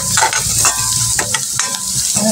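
Onion and garlic fry golden brown in a pan with turmeric, giving a steady, loud, close sizzle with scraping stirs throughout and no voices.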